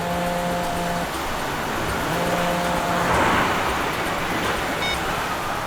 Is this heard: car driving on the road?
yes